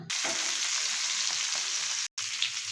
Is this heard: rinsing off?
no